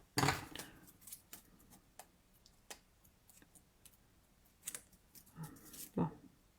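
Scissors make a few brief snipping cuts through material for a gift box, with faint clicks and rustles between them in a quiet room.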